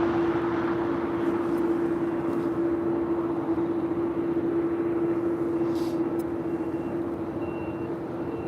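A Boeing 787-10 Dreamliner arriving at LAX from Tokyo Haneda gives off a loud, even engine whine with a steady tonal hum, holding constant throughout without a break.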